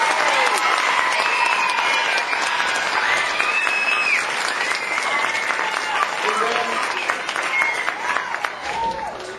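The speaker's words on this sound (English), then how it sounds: "if you could give them applause" Applause from a school audience at an RHS program, steady clapping across the whole stretch with a few voices and cheers mixed in.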